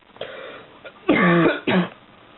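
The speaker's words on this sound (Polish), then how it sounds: "nie da mi ten kaszel dzisiaj" Two harsh coughs close to the mic, one longer and a shorter one after, preceded by a faint throat sound.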